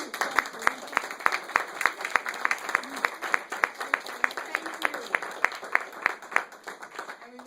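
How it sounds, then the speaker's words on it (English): An audience at a verse speaking choir event applauds past choir speakers. Moderate, steady clapping comes from a modest crowd, with individual sharp claps standing out in a loose, continuous rhythm. "And we want to applaud you."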